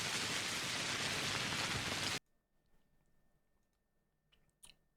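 Loud rain in the video game Pathologic pours steadily for about two seconds, then cuts off abruptly, leaving near silence with a few faint clicks and a small bump near the end.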